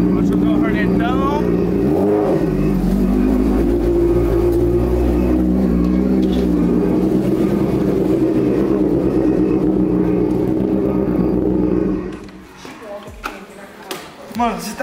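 A Honda Hornet motorcycle engine revs loudly and close as it accelerates, roaring steadily for about twelve seconds before dropping away to quieter idling sounds.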